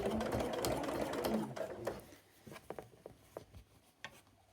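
A sewing machine runs steadily while stitching bias binding slowly around a curved edge, a dense close whir for about two seconds, then stops and gives way to scattered light clicks and handling taps.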